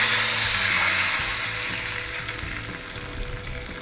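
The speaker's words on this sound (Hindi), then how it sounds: "जब ऑयल थोड़ा सा गर्म हो जाए तब हम उसमें थोड़ी सी राई डाल देंगे और तड़कने देंगे।" Mustard seeds, dry red chillies and curry leaves sizzle and crackle in hot oil as a tempering for South Indian sambar, a loud, close frying hiss that slowly eases off.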